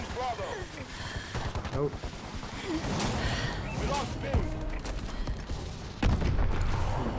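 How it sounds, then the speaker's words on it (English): Video game gunfire echoes inside a tunnel, with repeated booming shots and rumbling reverberation under ongoing game sounds and a voice speaking over it, ending in a louder, heavier burst. "your gun sounds really weird when you're in the tunnel"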